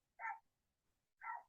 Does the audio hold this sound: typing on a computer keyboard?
no